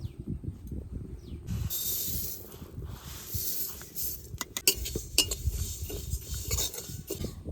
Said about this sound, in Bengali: কড়াই গরম হয়ে গেছে এবার অল্প অল্প করে তিল দিয়ে ভেজে নেব